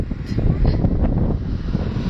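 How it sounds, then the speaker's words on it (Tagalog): Steady wind rushing and buffeting against the microphone on the Cordova-Cebu Link Expressway bridge in Cebu, a constant low roar with no talking. "Sarap ng hangin."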